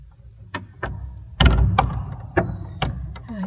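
An old door at Chateau de Biron in France is tried while locked, giving a series of sharp knocks and clunks as the handle and latch rattle, several separate hits close by.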